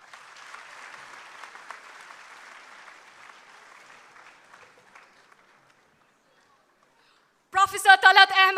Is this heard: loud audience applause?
yes